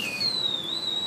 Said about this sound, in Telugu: 5 to 7 మినిట్స్కి చక్కగా ఇడ్లీ కుక్కర్ అనేది విజిల్ వచ్చింది